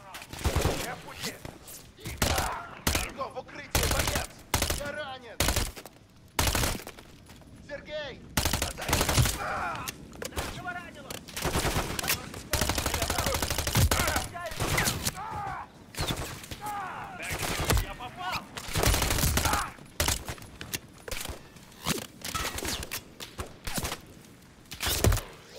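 Rapid gunfire from Modern Warfare III, a desert campaign mission: dense repeated bursts and single shots, loud and close, filling the whole stretch almost without pause.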